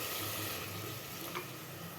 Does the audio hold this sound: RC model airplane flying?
no